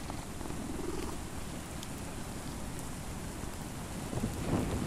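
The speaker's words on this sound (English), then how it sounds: "Oh, I've got a cat." A cat purring in the video game Mortal Shell, a continuous low rumbling purr, fairly close and steady, with a soft rain-like hiss behind it and no talk.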